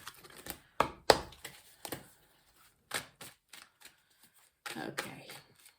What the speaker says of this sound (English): Okay, I'll shuffle for a little while.